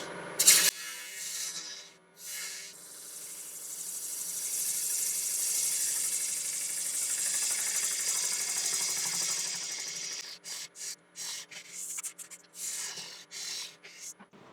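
Wood lathe running at about 700 RPM while a half-inch spindle gouge cuts the opening of a Balinese teak hollowform vase, giving a steady hissing, scraping cut that holds for several seconds, then breaks into short intermittent strokes near the end.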